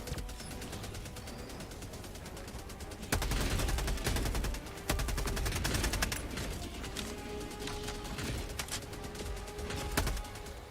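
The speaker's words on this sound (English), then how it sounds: "Just gonna shoot most of the shots right into that building." Gunfire from Warhammer 40k Rogue Trader fills the scene as repeated shots are aimed into a building, with dense bursts and sharp cracks rising louder around the middle and continuing steadily over game background noise.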